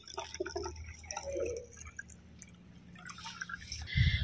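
Turmeric liquid is poured into a one-litre plastic water bottle for a garden plant spray, giving a soft dripping, trickling splash that runs steadily and grows louder at the end, with no talking.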